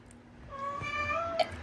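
A cat gives a single drawn-out meow, rising then falling, followed by a short sharp chirp near the end, fairly close against a quiet room.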